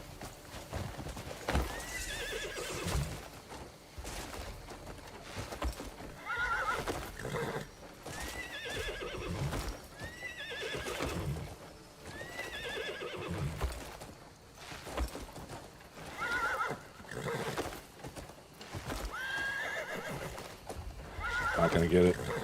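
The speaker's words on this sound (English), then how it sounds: "You stupid horse, get back here." Hooves clip-clop in a steady rhythm while a horse whinnies several times in the game Crimson Desert, with a person talking over it.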